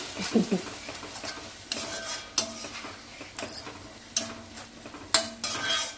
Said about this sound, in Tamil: நல்லா வதங்கட்டும் எண்ணெய் பிரிஞ்சு வரட்டும்